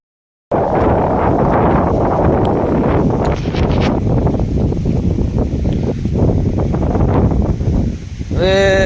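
Strong wind gusts through mango trees in rainy weather, buffeting the microphone with a loud, continuous roar and rustling, ending with a short creak.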